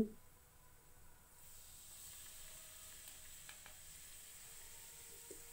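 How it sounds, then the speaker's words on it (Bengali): Asafoetida sizzling in about two ladles of hot oil in a wok, a steady close frying hiss that swells after a soft start and continues evenly with faint crackles, no voices. "কড়াইয়ে আমরা 2 পলা মতো তেল দিয়েছি, দিয়ে এর মধ্যে দিয়েছি 1 চামচ পরিমাণ হিং"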